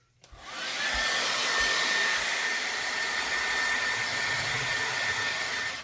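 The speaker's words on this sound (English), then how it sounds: "I'm using a hair dryer just to dry this a little bit." A hair dryer switches on and blows on wet paint, a loud, steady whooshing whine that holds constant until it cuts off at the end.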